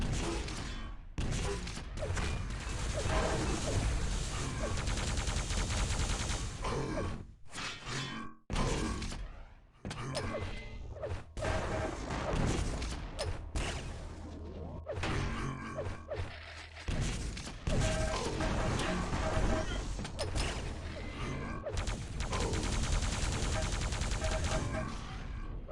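Shotgun blasts and rapid weapon fire in a Quake CPMA playoff match, dense bursts of shots and clanking hits packed through most of the stretch, with brief gaps of near quiet between exchanges.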